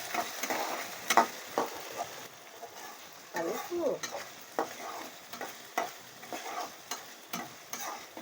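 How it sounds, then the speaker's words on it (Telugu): Tomato pieces sauté slowly over a low flame in a pan for a curry with allchippalu shellfish, a soft sizzle broken by repeated rhythmic stirring scrapes and taps of a spoon, close and steady, with no speech. "టమాటా ముక్కలు వేసుకుందాం అవి కూడా కొంచెం మగ్గాలి చక్క సన్న సెగలో పెట్టుకొని నిదానంగా పెట్టుకుందాం"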